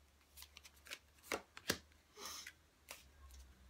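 Tarot-style oracle cards shuffled and drawn from a deck during a weekly reading, several soft papery riffles and flicks with two sharper snaps, close and quiet with no talk.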